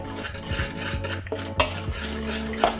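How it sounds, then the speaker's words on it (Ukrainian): A spoon scraping and clinking in a bowl while chocolate Easter bread batter with dark cocoa is stirred, giving a close, irregular series of strokes and knocks with no talking. "Це все ретельно перемішуємо"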